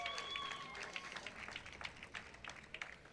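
Scattered applause from an audience at a paddle tournament final in Miami, faint and distant, with irregular claps for Derek Jeter, team captain, fading within a few seconds.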